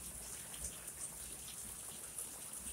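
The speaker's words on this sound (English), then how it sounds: "the rain is coming that hard, you can't even hardly see" Heavy rain pours down during a severe thunderstorm with strong winds expected, a dense, steady roar of drops drumming on surfaces close by, sustained and unbroken with no voices.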